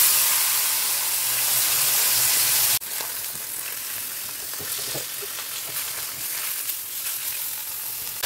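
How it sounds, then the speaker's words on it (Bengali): Fish goes into the same hot oil used for frying pointed gourd, with a loud sizzle at first that drops abruptly to a softer, steady crackle with scattered pops. "ওই সেম তেলেতেই মাছটা দিয়ে দিচ্ছি।"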